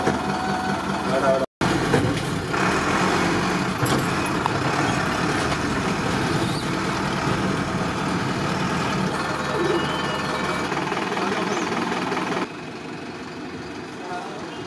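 Diesel school buses idle during a pre-term Motor Vehicles Department fitness inspection, with a steady, loud engine drone throughout and a brief dropout near the start. Voices and faint beeps surface in the background.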